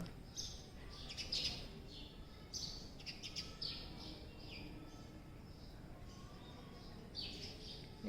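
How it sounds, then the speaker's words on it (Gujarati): Small birds, sparrows among pigeons, chirp in short, high bursts at a distance, scattered over a quiet outdoor background. "સામે સામે જો કબૂતર ને ચકલી ચણ માટે આવી ગયા છે"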